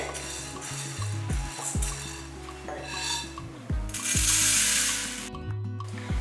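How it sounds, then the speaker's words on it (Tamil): White urad dal roasting dry in a pan, stirred with a utensil, giving repeated scraping strokes and rattling clinks against the metal, close and moderately loud, with a brief rushing burst partway through. "நல்லா வந்து மொறுமொறுன்னு வறுத்துக்கணும், கருக விட்டுறக்கூடாது."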